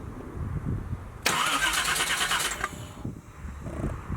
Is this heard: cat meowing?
no